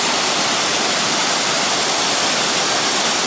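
Close and loud, a waterfall beside the Llanberis footpaths roars as a dense, continuous broadband rush of water without pause.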